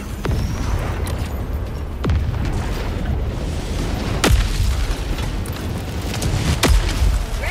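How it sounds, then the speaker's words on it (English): A nuke detonates in the video game Helldivers, producing a sustained deep rumbling roar punctuated by several sharp booming impacts, loud and alone over seven seconds. "I did not know it would be that big of an explosion. I hit one of the nukes in the ground."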